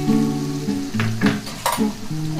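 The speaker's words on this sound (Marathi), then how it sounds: "आपण यामध्ये टमाटरची प्युरी घालून घेऊ" Tomato puree going into frying masala for rajma masala, a loud close sizzle with repeated spoon scrapes and stirring strokes against the pan, no voices over it.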